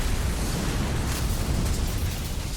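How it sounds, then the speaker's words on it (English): A dense, sustained rumbling blast of noise in the video game Enchanted Arms, loud and unbroken, like a continuous explosion effect with no voices. "Those are kind of underwhelming sound effects for the explosions."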